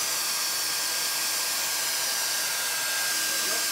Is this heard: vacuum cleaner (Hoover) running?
yes